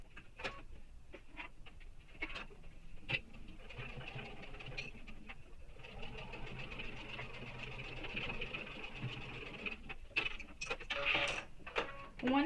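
Sewing machine basting backpack pieces in place, with bursts of needle stitching and a faint mechanical whir broken by short pauses, close by and quiet.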